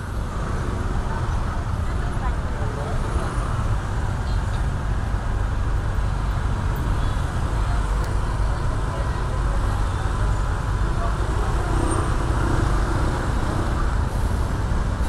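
Steady low rumble of slow, congested traffic on a narrow street in Seminyak, Bali, at night on New Year's Eve, with idling cars and motorbikes close by and continuous engine noise throughout.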